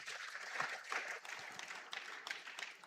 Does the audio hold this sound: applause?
yes